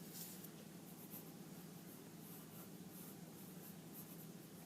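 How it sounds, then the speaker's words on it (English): A pen or pencil scratches across paper while a garden sketch is drawn, a soft continuous rasp with quick strokes, quiet and close. "Turn the paper so you're not drawing from one direction."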